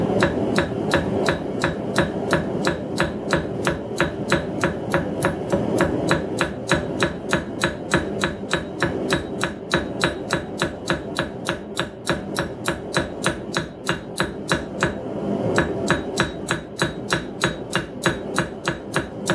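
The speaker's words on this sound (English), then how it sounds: "now I'm going to give it some veins. This is the smallest, like the thinnest cross peen I had" A narrow cross peen hammer strikes a small steel leaf on an anvil, forming veins in a long, steady run of quick, evenly spaced ringing blows, close and loud with no talk.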